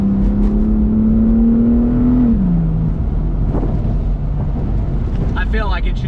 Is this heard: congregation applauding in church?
no